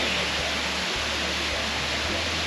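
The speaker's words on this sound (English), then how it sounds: "On the way home, we found a waterfall." A mountain waterfall in Taiwan, heard as a loud, dense, continuous roar of falling water close by, steady from start to finish with faint low thumps of wind on the microphone.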